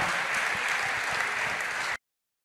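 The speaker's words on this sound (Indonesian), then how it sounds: "Boleh sekali tepuk tangan paling meriah untuk Najwa Shihab dan Denny Sumargo." Audience applause at an Indonesian book launch for a biography, a steady wash of clapping from a crowd that holds evenly for about two seconds and then cuts off abruptly.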